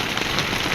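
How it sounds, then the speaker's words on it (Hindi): Heavy rain pours down hard outdoors, a dense, continuous hiss of drops hitting surfaces close by, with no voices. "बाकी बारिश बहुत ज़्यादा तेज़ हो चुकी है।"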